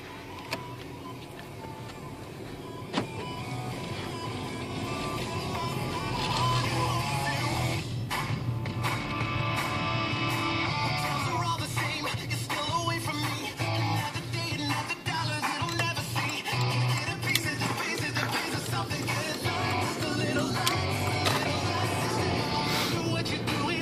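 A 2004 Volkswagen Jetta TDI diesel on the road, with a steady engine and road drone from inside the cabin that rises a little after a few seconds, with occasional light thumps and rattles.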